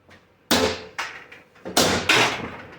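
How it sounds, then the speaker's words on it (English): A hammer strikes metal pieces on aluminum, knocking them loose: five sharp, loud blows at irregular intervals, the last two close together, with a ringing decay after each. "we'll just take the hammer and see if these will knock off"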